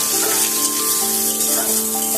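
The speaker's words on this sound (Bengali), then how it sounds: "ফোড়ন থেকে ভাজা গন্ধ ছাড়লে এর মধ্যে দিয়ে দিচ্ছি কুচানো পেঁয়াজ। পেঁয়াজটা একটু ভালোভাবে ভেজে নেব।" Chopped onion frying in oil with whole cinnamon, cloves and cumin gives a steady, close sizzle with no breaks, loud and even throughout, with a faint tonal hum from the kitchen behind it.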